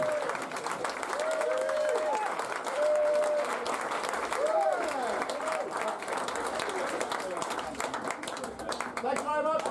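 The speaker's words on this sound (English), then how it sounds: "let's have a little round of applause for everyone we have this evening" Comedy festival audience at a new-act grand final applauding, a sustained dense roar of clapping and crowd noise with a voice speaking over it at times.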